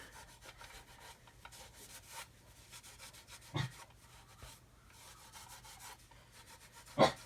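Rubbing and polishing strokes over the clear glazing parts of a scale model kit: faint, intermittent scrubbing in a quiet room, with a couple of slightly louder contacts.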